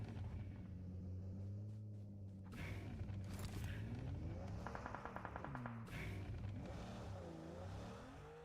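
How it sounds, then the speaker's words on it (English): A vehicle engine idles at the edge of a zone in the battle royale game PUBG Mobile during a competitive match. Its low hum runs steadily throughout, with bursts of gunfire crackling in between and no voices. "Love the sound coming through as the vehicle is just idling on the edge."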